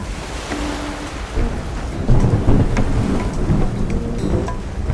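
Stormy sea waves and rumbling thunder in the video game LADS - To Our Yesterday, a dense, loud, continuous roar with heavier low surges midway and no talk.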